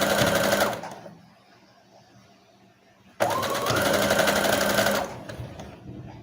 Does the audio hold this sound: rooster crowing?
no